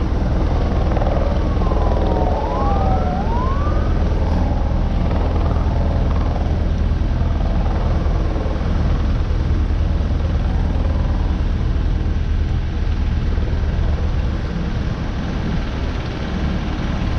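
A helicopter drones steadily and loudly throughout at a staged mock crash scene, a continuous rotor and engine roar with no break across the whole stretch.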